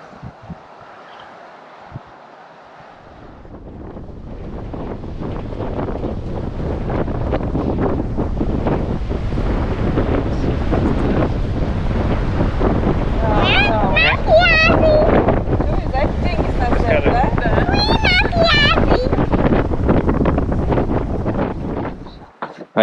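Strong wind buffets the microphone on a cape high above Patara beach in Turkey, a steady loud roar that builds after a quiet opening and holds to the end, with faint chirping birds partway through.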